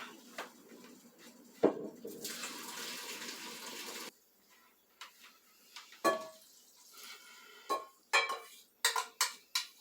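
Water from a pot of cooked noodles gushes out in a loud, roughly two-second pour, then stops, followed by scattered clinks and knocks of the pot and kitchenware.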